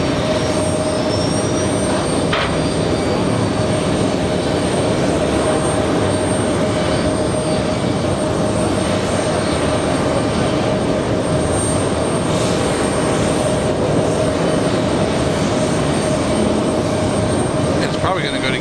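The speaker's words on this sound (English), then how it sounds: "An Airbus A330." An Airbus A330neo airliner arriving at JFK airport in New York, its jet engines a steady, broad roar that fills the whole stretch, with a faint high whine running through it.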